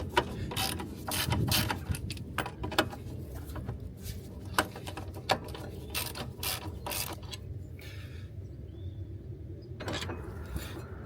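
Ratchet wrench loosening the brake caliper carrier bolts on a Renault Clio 172 Cup, heard as close, irregular runs of metallic clicks and sharp taps over a low background rumble.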